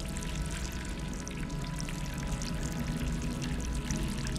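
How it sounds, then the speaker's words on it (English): Water pours steadily in the video game Stray while the player collects it, a continuous dense splashing rush with no break. "Oh, I can gather water!"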